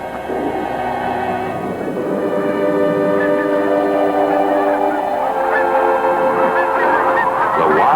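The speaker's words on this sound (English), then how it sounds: "The geese were leaving." A flock of geese honks repeatedly in the Arctic, a dense chorus of overlapping calls carrying steadily, fairly loud and sustained.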